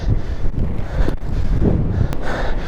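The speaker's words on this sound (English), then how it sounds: "It's really windy." Strong wind buffets the microphone in heavy, rumbling gusts throughout, with a brief breathy sound near the middle.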